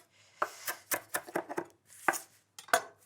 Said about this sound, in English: So take the stalks off and then roughly chop the leaves.